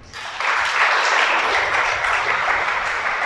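Audience applause during a religious congregation lecture, a loud continuous wash of clapping that swells in quickly and holds steady.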